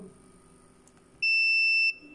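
A multimeter gives a single steady high-pitched beep lasting under a second while probing a capacitor in a Logitech S-220 speaker amplifier, then cuts off, in an otherwise quiet room.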